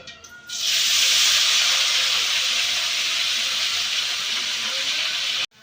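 Mint leaves fry in hot oil for a mint chutney, giving a loud, steady hiss that starts abruptly, holds for about five seconds, and cuts off sharply, with no talking.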